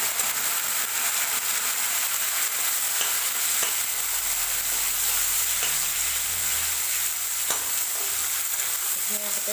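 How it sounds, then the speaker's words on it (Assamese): Fish belly frying in a pan sizzles steadily and loudly, with scattered crackles, pops and spatter as the pieces cook in hot oil, no voices present. "আগতে ভালদৰে ভাজি ল'ম"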